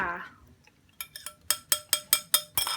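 An egg, milk and whipped cream mixture goes into a pot for Japanese fruit jelly, heard as a run of about seven bright metallic clinks and taps of a utensil on the pot, evenly paced and close by.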